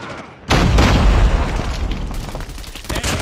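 A grenade in Call of Duty detonates with a heavy, close boom that rolls into a long rumbling decay, with faint scattered battle noise around it.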